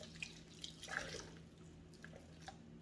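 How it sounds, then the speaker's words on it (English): Wet rag wrung out over a kitchen sink, water dribbling and dripping into the basin in scattered small drops, quiet and close against a low steady hum. "Wring it out."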